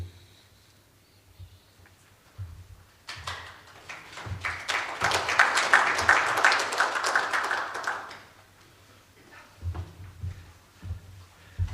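Applause from a transport-sector networking audience rises for about five seconds before a presenter on wearables and fatigue safety begins, swelling mid-way then fading to scattered claps and room noise.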